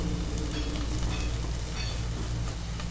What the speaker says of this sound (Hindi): इसे तो मसालों को फ्राई कर लेते हैं हल्की से